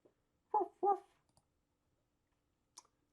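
A puppy gives two short, soft yips or whimpers in quick succession, close and quiet against silence, followed later by a faint click.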